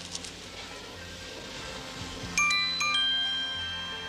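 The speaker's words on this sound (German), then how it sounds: "Johannes läutet." Doorbell chimes ring out midway through a low humming room background, two bright ding-dong tones in quick succession, the second one lingering and fading over the final second.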